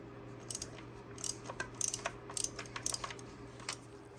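A ratchet loosening spark plugs on a 5.7 HEMI engine in a Dodge: quiet, fast metallic clicking in short bursts, with rapid uneven ticks close up over a faint steady hum.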